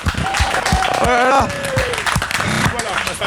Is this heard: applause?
yes